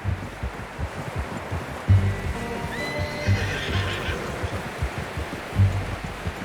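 A horse whinnies with a rising, trembling cry over steady hoofbeats and low rumbling, with another snort or neigh shortly after, in the video game Red Dead Redemption 2.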